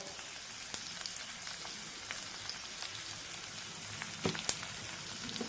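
Chilli powder, fenugreek powder, turmeric and asafoetida frying in hot oil for a bitter gourd pickle, a faint, steady sizzle with a couple of small pops and clinks near the end.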